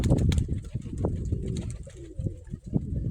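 Pigeons coo close by at a village dovecote in soft, throaty bursts, several calls overlapping with light rustling.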